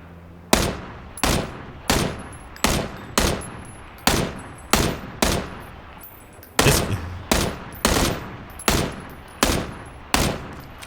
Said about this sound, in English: Nice shots nonetheless. This guy's got good control. I really like the way he's handling the M16.